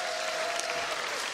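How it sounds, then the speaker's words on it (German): A studio audience at a Schlager music TV show gives a brief burst of applause. Fairly quiet, even clapping fills the whole moment without any talking over it. "Also das gebührt einen Applaus"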